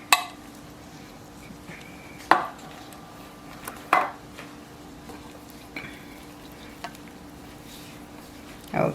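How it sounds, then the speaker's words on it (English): A spoon scrapes and clacks against a pot as mushroom soup is stirred into pork chop dressing, giving sharp, intermittent knocks every second or two over a steady low kitchen hum, with no voices. "And I'm stirring it up"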